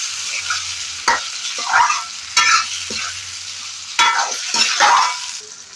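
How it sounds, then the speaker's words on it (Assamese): Goat mutton frying with browned onions in hot oil, a strong steady sizzle with several distinct stirring scrapes of a spoon against the pan at irregular intervals, no talking. "এতিয়া মই ভালকে ভাজি লম মাংসখিনি"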